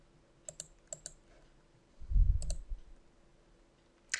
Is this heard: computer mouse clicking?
yes